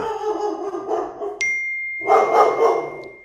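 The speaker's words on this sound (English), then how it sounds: "that is my daughter's puppy, pit bull" Pit bull puppy barking up close in short yips and barks, with a brief ding partway through.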